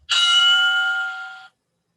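A single bright electronic interval-timer bell for a bootcamp workout rings out loud and clear, holding its ringing tone for about a second and a half before cutting off into silence.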